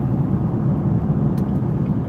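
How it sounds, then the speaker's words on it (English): A cattle truck passes on a road near Spokane, heard as a steady, loud low rumble of engine and road noise that holds evenly throughout, with no voices. "Ooh, a cattle truck, yep."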